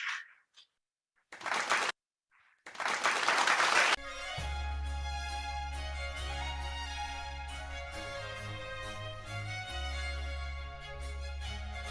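An audience at a national leadership seminar and lecturer's training breaks into sustained, dense applause welcoming a lecturer, steady and full for several seconds after brief bursts of a voice over a public address system.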